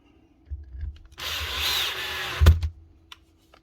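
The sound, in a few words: power drill driving screws during tool repair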